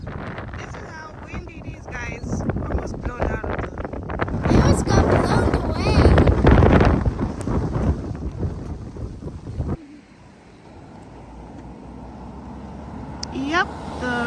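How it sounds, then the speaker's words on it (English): Gusty wind roars and buffets the microphone, loud at first then easing, with people talking and exclaiming over it. "This is how windy it is, guys."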